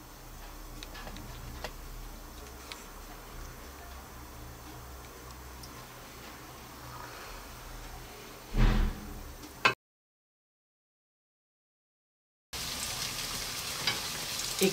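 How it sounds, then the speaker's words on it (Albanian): Cheese and parsley stuffed potato balls, coated in egg white and breadcrumbs, fry in hot oil with a steady close sizzle and a few clinks before a short gap of silence, then louder frying resumes. "skuqim në vaj të nxehtë."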